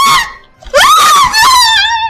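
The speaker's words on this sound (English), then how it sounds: "Suddenly, he was startled by a blood-curdling scream." A woman's loud, blood-curdling scream rings out close and alone in two long anguished bursts, the second wavering and sustained, separated by a short gasp.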